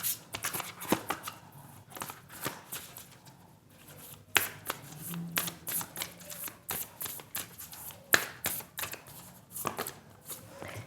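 Tarot cards are shuffled by hand in a quiet room, a long run of close, crisp riffling and flicking bursts in an uneven rhythm, with no one talking.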